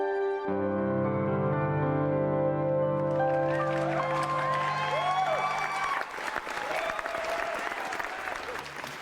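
A TV studio audience breaks into loud, sustained applause that swells after a few seconds of held musical tones and continues to the end.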